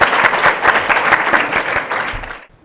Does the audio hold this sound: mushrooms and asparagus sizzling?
no